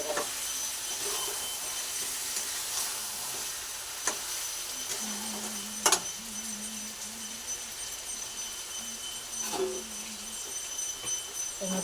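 Water is poured into a pan of chicken curry cooking over a coal fire, giving a steady close sizzle and hiss with a few stirring knocks and clinks.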